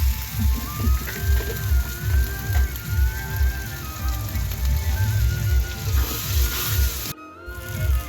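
Water splashed into a hot pan of gravy for a Bengali meat curry sizzles and crackles steadily, with a loud rhythmic low thumping beneath it and a brief dropout near the end.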